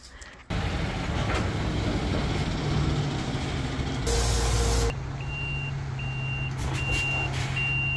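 A concrete mixer truck arriving at a house construction site for pouring a driveway ramp, engine rumbling steadily, a loud air brake hiss lasting under a second, then rhythmic reversing beeps repeating.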